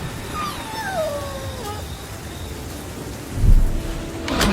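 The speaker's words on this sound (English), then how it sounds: "The wind was tearing tiles from the rooftops, and thunder roared across the sky." Thunderstorm in an animated fantasy film, steady heavy rain hissing throughout with a low rumble of thunder swelling near the end, while a narrator speaks over the opening seconds.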